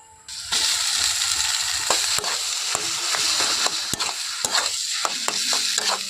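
Mixed vegetables with grated potato frying in oil in a pan for a semolina potato snack: a steady, loud sizzle runs throughout, with sharp scraping knocks of a spatula stirring at irregular intervals.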